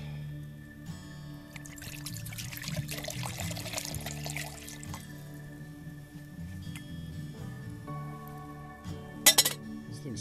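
Water is poured into a pot on a camp stove outdoors, a soft trickle and splash lasting a few seconds among light metallic clinks, followed by a brief sharp clatter near the end.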